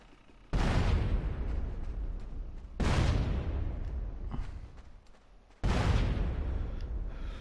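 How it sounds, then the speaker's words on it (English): Three loud grenade explosions from the video game GTA San Andreas boom one after another, each a sudden blast that rumbles and fades over a couple of seconds, with no voices. "let's yuck a couple of grenades over"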